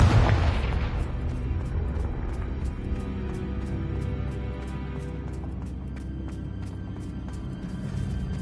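Hogwarts Legacy's Confringo blasting spell sets off a loud booming explosion that hits at once and then rumbles and crackles away over several seconds, with faint ticking debris in the tail.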